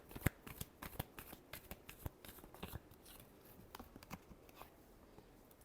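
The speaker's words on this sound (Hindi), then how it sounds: "Last shuffle." Tarot cards are shuffled by hand up close, with soft irregular riffling and tapping that slowly thins out, quiet and without talking.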